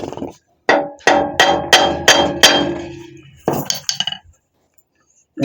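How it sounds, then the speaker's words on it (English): Hammer blows on a wheel bearing of a 1953 Ford Customline with a 350 engine swap: a quick run of about six loud metallic strikes with ringing decay, followed by a few lighter clanks, no talk. "If you hit it with a hammer there, it usually, you know, gives it the ability to move."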